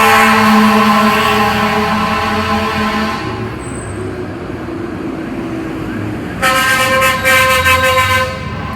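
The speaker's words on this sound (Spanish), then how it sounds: "Así como esa trompeta, esa bocina suena" Vehicle horn sounding loud and close in a long sustained blast, fading under background rumble, then a second shorter blast a few seconds later.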